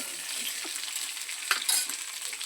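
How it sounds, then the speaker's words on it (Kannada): Raw mango paluvu is mixed into a little oil in a pan, with quiet scraping strokes of a spoon and a faint steady sizzle, a few slightly louder scrapes near the end, and no talking. "ಸ್ವಲ್ಪ ಎಣ್ಣೆಗೆ ಚೆನ್ನಾಗಿ ಮಿಕ್ಸ್ ಮಾಡ್ಕೋಬೇಕು"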